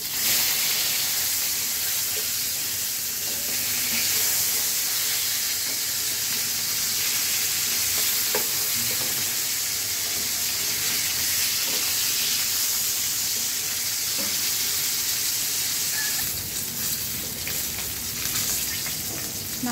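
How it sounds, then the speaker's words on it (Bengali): Rohu fish frying in a pan for a bean-seed curry, a steady, even sizzle and hiss of hot oil that continues close and uninterrupted. "মাছগুলো আমি একটু কড়া করেই ভাজবো।"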